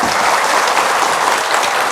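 A crowd applauds steadily, a dense, loud wash of clapping that holds even from start to finish with no voices above it.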